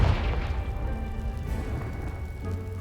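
A Confringo fire spell blasts a pile of debris in Hogwarts Legacy, a deep booming explosion that opens loud and then rolls on as a long rumbling, crackling tail with no one talking.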